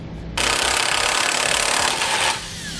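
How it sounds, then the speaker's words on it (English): A 15mm socket tightens the bolts at the bottom of a tow hook while an Aries grille guard is fitted to a 2004 Chevrolet Blazer, giving about two seconds of steady, close, rough ratcheting and grinding with no talk. "we can go ahead and tighten up the bolts that are at the bottom of our tow hook"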